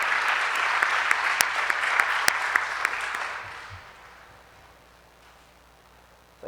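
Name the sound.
audience applause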